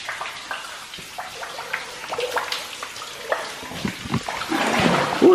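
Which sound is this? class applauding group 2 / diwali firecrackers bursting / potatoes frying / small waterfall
small waterfall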